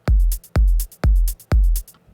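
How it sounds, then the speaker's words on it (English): A looping drum beat with deep, booming kicks and quick, crisp hi-hat ticks between them, repeating four times in a steady groove. "my first change for this section is going to be a 16th note hi-hat"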